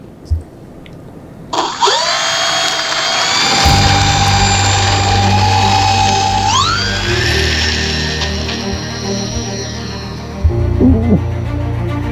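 A BlitzRCWorks California Cutie P-38 Lightning V2 model plane runs up its electric motors with a rising whine that shifts pitch and holds loud and close through takeoff, with a brief rattle near the end.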